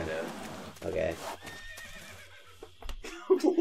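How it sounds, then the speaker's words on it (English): A horse whinnies in the jungle of the video game Metal Gear Solid 3, a few nearby neighing calls with clip-clop hooves, heard under ongoing talk and game sounds. "Jungle horse. Like, oh, yes, a jungle horse."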